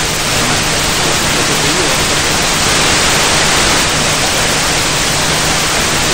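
Dense, steady hiss of radio interference fills a receiver's passband, loud and constant like static or white noise from start to finish, with no pauses.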